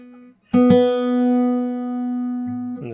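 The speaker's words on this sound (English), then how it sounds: "hopefully you can hear that beating sort of slow down because we're getting closer to the note now" Guitar strings tuned by ear, two notes ringing together so their slow beating wavers audibly; one note sustains clearly, another joins, then a final pluck near the end, close and alone without talk.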